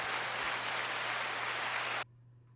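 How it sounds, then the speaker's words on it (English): Canned applause sound effect: a dense, even wash of clapping that runs about two seconds and then cuts off dead, with no fade, leaving near silence. "And then we got applause, which stops very quickly. There's no fading."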